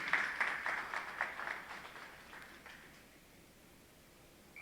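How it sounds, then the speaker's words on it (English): Round of applause from a seated audience at a business talk for content creators, moderate at first and quickly thinning out to scattered claps and quiet room noise. "please give a round of applause for Miss Alexis Cummings."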